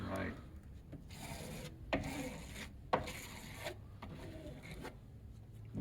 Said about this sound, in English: He scrapes, applies pressure.